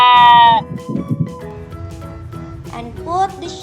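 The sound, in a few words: toy sheep bleating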